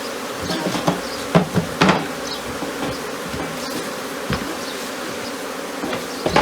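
A dense, continuous buzz of many Africanized bees hums close by during a bee rescue, with occasional knocks and taps over it.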